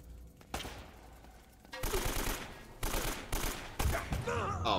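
Gunfire in the video game Uncharted 1, several loud sharp bursts of shots in quick succession, growing denser toward the end.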